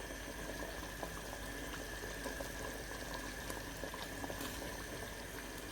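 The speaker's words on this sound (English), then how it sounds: "I used red oil to fry them." Blended ingredients fry in red oil in a pot for an okra soup, giving a quiet, continuous bubbling sizzle that stays even and close without any talking.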